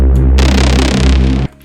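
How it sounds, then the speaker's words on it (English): A loud, heavy hypertechno Reese synth bass drone with a buzzing, gritty acid bass layer on top that swells in, throbs, then cuts off abruptly. "I also put in acid bass on the Reese bass as well to make it more interesting."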